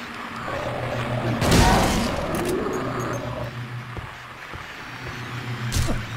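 Shotgun blasts in Silent Hill 2, a loud boom near the start and another near the end, over a steady low game drone with faint scraping noises between.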